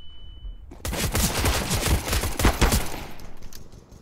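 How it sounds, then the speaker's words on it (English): A loud gunfight in Counter-Strike: Global Offensive erupts after a brief tone: rapid overlapping automatic gunfire and shots fill several seconds, close and intense, then trail off. "What a shootout!"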